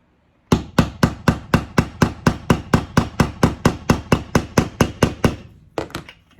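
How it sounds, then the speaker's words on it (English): A rapid, steady series of about twenty sharp hammer taps on a wooden rolling pin, close and loud, followed by a short pause and two final taps. "You just need to take a hammer"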